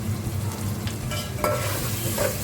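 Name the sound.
stirring and roasting whole coriander seeds in pan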